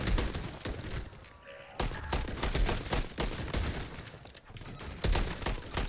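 Bursts of gunfire from footage of the Trump assassination attempt, a rapid run of sharp cracks and thuds with a brief lull, then a renewed volley, loud against a muffled crowd background.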